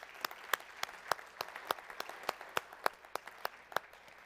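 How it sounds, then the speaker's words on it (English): An audience at a conference session gives a quick round of applause for the event's vendors, faint and fairly distant, with irregular individual claps standing out over steady patter and no talking. "I'd like a quick round of applause for our vendors."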